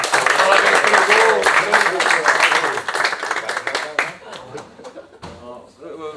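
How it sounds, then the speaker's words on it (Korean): A group of people claps in applause after a football match win, brisk loud clapping mixed with voices and cheering that fades and thins out toward the end. "박수 한번 쳐주십시오"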